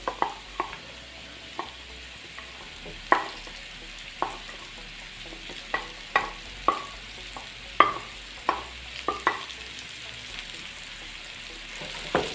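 Chopped carrots stirred with onion and spices in a hot pan: a dozen or so irregular spatula scrapes and taps over a soft, continuous sizzle, close by and with no talk.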